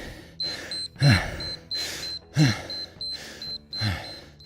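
A Tabata workout interval timer beeps in a steady repeating pattern of short tones while someone breathes heavily and grunts between the beeps.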